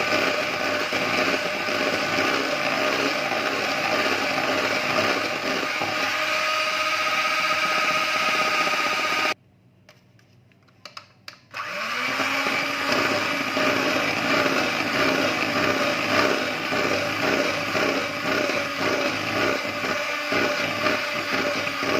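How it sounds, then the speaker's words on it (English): An electric hand mixer whirs steadily at its lowest speed through a chocolate sponge cake's egg mixture, cutting out briefly partway and then resuming, loud and close throughout. "whisk it on number 1 speed, so that it doesn't overflow"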